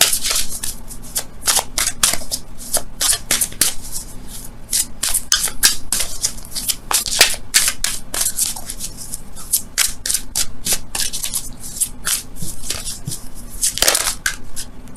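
Angel oracle cards for a romance reading are shuffled close up, giving a continuous riffling and slapping of card stock for the full stretch, with sharper flicks scattered throughout and no voices.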